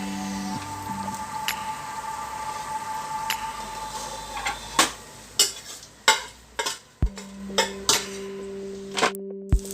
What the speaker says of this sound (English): I've added green chilies to the same pot. I'm going to allow it to fry